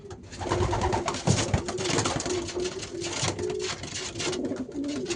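Pigeons kept for sale coo steadily in a loft, several birds overlapping in a continuous low murmur with occasional louder calls, close and loud throughout.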